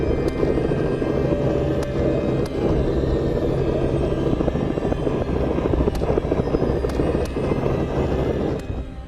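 Helicopter flying during a hunt, giving a continuous loud engine and rotor rumble throughout with occasional sharp clicks, no voices.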